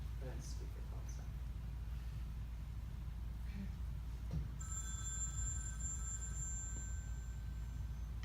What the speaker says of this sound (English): I'm gonna call Maggie